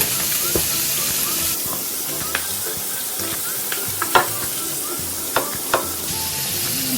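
Flour being stirred into browned, caramelized beef with smoked paprika in a pot for boeuf bourguignon. Loud continuous sizzling runs throughout, with scattered scraping clicks of the spoon. No voices.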